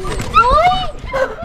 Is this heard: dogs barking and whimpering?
yes